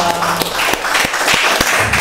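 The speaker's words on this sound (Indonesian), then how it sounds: "tepuk tangan dulu dong" Applause from a small group at a talk with a military district commander, with distinct loud claps ringing out in an uneven rhythm over a dense patter of hands.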